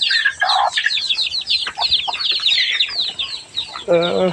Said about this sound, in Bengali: এগুলো হচ্ছে আমাদের দেশি মুরগিগুলো